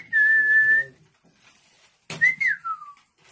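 A person whistles two short notes: one steady held tone, then a pause, then a brief rising-and-falling whistle with a breathy onset.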